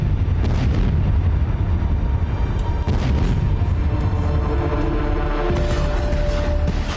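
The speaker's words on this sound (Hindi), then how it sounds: "धमाके ऐसे कि रूह थरथरा जाए, हमला ऐसा कि कलेजा कांप उठे।" Explosions from a Russian attack on Kyiv, heard as a loud, continuous roar of blasts and rumbling booms with repeated sharp bursts throughout, no speech.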